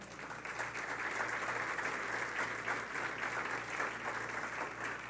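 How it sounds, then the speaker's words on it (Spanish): A church congregation applauds steadily throughout, a dense, even wash of many hands clapping at moderate loudness, with a low steady hum underneath. "¿Alguien puede darle un aplauso al Señor por eso?"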